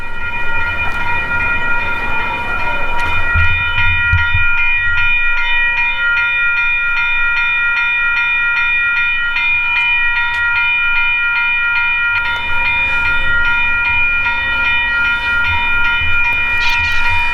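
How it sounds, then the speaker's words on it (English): A train passes close by on a double-track railroad bridge with a loud, continuous rumble and sustained horn-like tones, the clatter of wheels rising and falling over a long stretch. "the train is coming"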